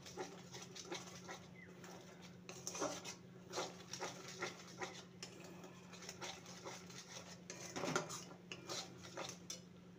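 A spoon stirring a ginger candy mixture in a pan, giving irregular metallic scrapes and light clinks that repeat steadily over a low hum, close by with no talking.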